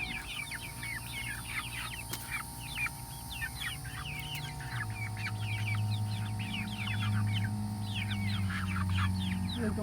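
Chickens in a backyard flock cluck and chatter continuously at moderate distance, with a low steady hum running beneath and no talking.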